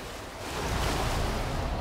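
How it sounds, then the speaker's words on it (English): Waterfall in the action game Black Myth: Wukong, a steady broadband roar of rushing water that swells slightly and holds constant, heard alone without speech. "That's the waterfall."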